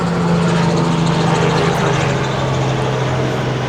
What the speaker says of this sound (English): There's always helicopters when we're making a video.